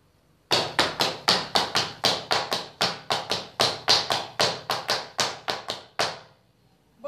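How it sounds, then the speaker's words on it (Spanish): Fast zapateado footwork stamps out a rapid, even run of about twenty sharp, close taps in quick rhythm, then stops. "quiero que escuches el sonido del zapateado"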